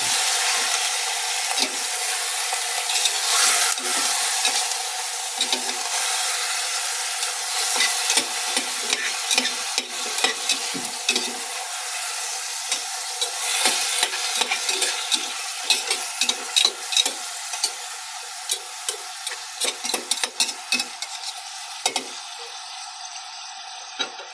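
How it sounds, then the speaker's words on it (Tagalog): Chicken pieces sizzle and fry in a pot as they cook down in their own juices for tinola, a continuous close sizzle with scattered stirring scrapes and clinks, steady throughout with no talk. "Patuyuin po muna natin yung sariling tubig ng karne."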